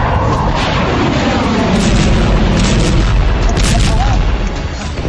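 A sustained, loud rumbling blast reports a US bombing of Yemen. The dense, heavy roar continues throughout with no clear gaps.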